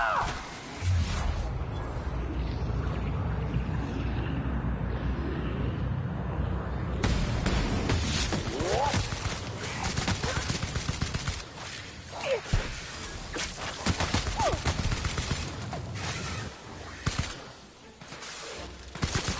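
Gunfire during combat in the sci-fi game The Outer Worlds, with repeated sharp shots and bursts, whooshing impacts and crashes layered over a dense battle din, growing more choppy and intermittent toward the end.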